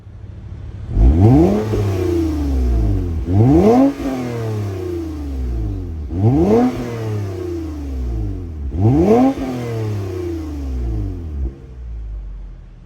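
The V6 in a 2024 Toyota Camry TRD is revved four times at close range, each blip climbing sharply then falling back to a rumbling idle in an even, repeating pattern.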